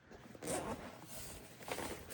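The zipper on the front compartment of an Alpaka Bravo briefcase is pulled open in one continuous, close-up zip with a slight catch partway through.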